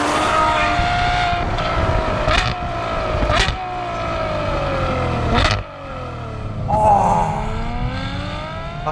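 Ferrari 812 Superfast engine on a damp road, revving hard through a series of downshifts, with sharp throttle blips and pitch jumps at each gear change; loud, close and continuous, with no talk.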